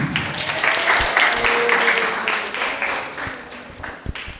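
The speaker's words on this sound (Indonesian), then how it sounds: "Tepuk tangan" A short burst of clapping from a group of junior high school students in a classroom, moderately loud and close, fading out after a few seconds.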